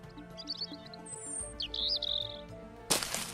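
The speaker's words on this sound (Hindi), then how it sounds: "मैना पक्षी आगे उड़ गई" A cartoon myna bird gives several quick bright chirps and a short trilling call, clear and close, followed by a brief burst of rustling noise at the end.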